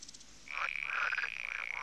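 Frogs and toads give mating calls, a loud, close, sustained trill that rises in after a quiet start and keeps vibrating rapidly to the end, alone without speech.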